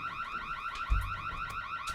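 A house security alarm wails continuously in a rapid, warbling electronic pattern, fairly loud and steady, with a brief low thump partway through and no talking.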